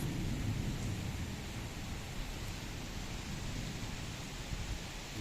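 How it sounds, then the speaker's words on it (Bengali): Steady broadband rumble of thunder and heavy rain during a rainy-day storm, fairly faint and continuous with no distinct cracks, a constant wash of low noise throughout. "বজ্রপাতের আওয়াজ।"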